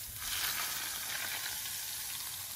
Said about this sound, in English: I'm gonna pour all this hot oil onto the plate